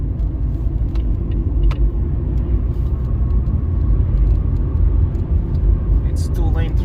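Steady, loud low rumble of a car cruising along the Hellisheiði highway in Iceland, a continuous road and engine drone from inside the vehicle with a few faint clicks near the end.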